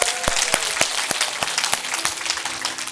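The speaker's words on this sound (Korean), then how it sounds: "박수가. 다시 한번 쳐봐요." Church congregation clapping at an evening revival service, with sharp, loud individual claps standing out over a busy background of many hands.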